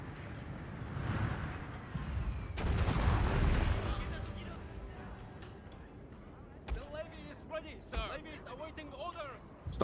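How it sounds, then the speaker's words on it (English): Cannon tower firing in the video game Shogun 2 Total War: Fall of the Samurai, heard as loud booming blasts and rumbling battle noise in the first half, fading into scattered sharp cracks and shouting voices. "We are getting wrecked by the cannon tower."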